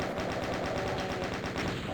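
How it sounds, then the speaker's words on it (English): Rapid automatic chaingun fire in the video game DOOM, a dense continuous stream of close, loud shots running without a break. "Chain gun time, because there are some enemies to the left."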